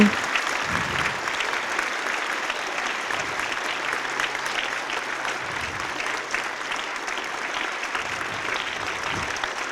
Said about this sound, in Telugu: Wonderful clapping.